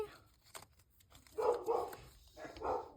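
Several dogs barking in short bursts from another room, muffled and moderately distant, with pauses between the barks.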